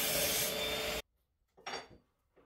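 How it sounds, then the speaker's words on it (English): Aluminum T-track being cut with regular woodworking tools and blades for a table saw crosscut sled base: a loud, dense one-second rasping burst stops abruptly, followed by a couple of fainter, shorter scraping bursts. "I measure and cut the T-track for the base"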